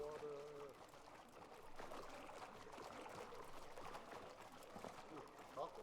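Water in a Portal mod pours and trickles in a steady, soft wash, faint and continuous under a quiet game ambience with a brief electronic tone at the start.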